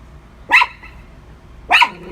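Puppies give two sharp, separate barks about a second apart, close and fairly loud against a quiet indoor background, with no talking.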